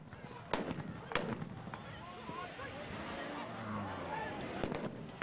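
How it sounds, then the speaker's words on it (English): Two sharp, loud stun grenade blasts ring out early during a Cape Town protest, followed by later bangs, over a murmur of crowd noise and commotion. "They used stun grenades, tear gas and a water cannon to disperse the protesters."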